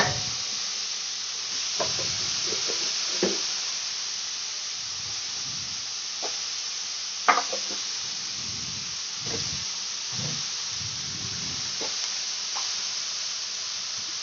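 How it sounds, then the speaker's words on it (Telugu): Beetroot frying in a pan for a Telangana-style curry, stirred back and forth with a spoon: a steady hiss of sizzling runs throughout, broken by repeated soft scraping and clinking strokes, with no talking. "స్పూన్తో అటు ఇటు మంచిగా కలుపుకోవాలి అన్నీ ఫ్రై అన్నీ కలిపేటట్టు ఒక ఐదు నిమిషాలు మంచిగా ఫ్రై అవ్వాలి"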